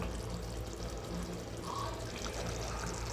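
Water poured into a simmering Tamil-style capsicum kurma curry, a steady continuous pouring and splashing wash heard close and moderately loud throughout, with no talking.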